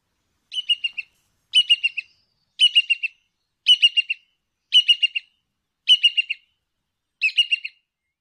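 A brown-hooded kingfisher gives seven evenly spaced bursts of sharp, rapid chattering notes, clear and isolated against silence.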